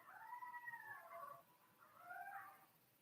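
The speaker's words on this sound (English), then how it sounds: "I don't know if you guys hear all those dogs." Distant dogs howl in long rising and falling tones, two drawn-out wails separated by a brief pause, faint and far off with no speech.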